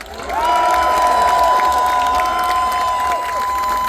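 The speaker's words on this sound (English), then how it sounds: "I want you to give a huge cheer now to the many miners and their families here today" A large outdoor crowd roars and cheers for miners and their families at the Durham Miners Gala, a loud sustained mass of voices with a steady held tone running through it for about three seconds.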